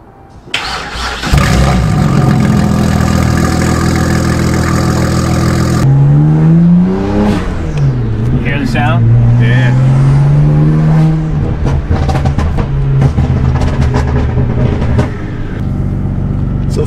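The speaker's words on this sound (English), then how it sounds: "Now we're going to start her up, take her out on the road, and make sure that there's no leaks." A BMW 335i engine cranks and fires up loudly, idling with a steady rumble, then the car pulls away and revs rise and fall through gears as it drives on the road, the engine close and dominant throughout.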